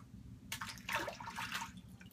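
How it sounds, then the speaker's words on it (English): Water is squeezed out of a Burt's Bees shave cream lather, a faint, brief wet squish and trickle lasting about a second over quiet background hiss. "I squeezed out a lot of water, more than I thought was in there."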